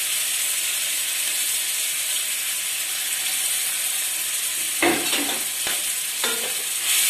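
Garlic frying in a pan: a constant bright sizzle and hiss holds steady throughout, near and even, broken by a few short scraping stir strokes toward the end, with no voices.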